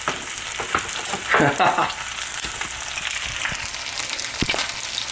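Eggs frying in a pan for breakfast, a steady close sizzle with scattered crackles and a few brief clatters of handling, no talking.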